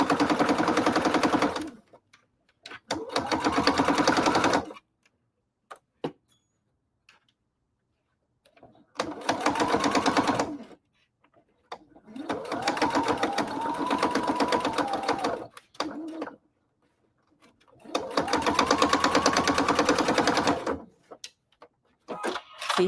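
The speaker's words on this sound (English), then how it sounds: "And even when I backstitch, it backstitched into the seam because it's just slippery." A sewing machine stitching slippery interfaced denim for a corset runs in several bursts of rapid, even mechanical whirring, loud and close, broken by brief pauses with faint handling clicks.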